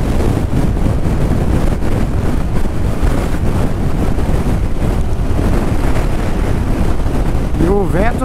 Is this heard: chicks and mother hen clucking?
no